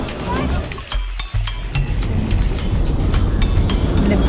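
An Indian general class passenger train rolls along with a dense rumbling rattle and scattered clicks and squeals of the cars, heard from on board under a steady loud background.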